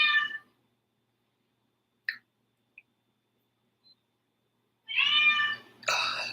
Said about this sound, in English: I'm really hoping Mittens does not continue to meow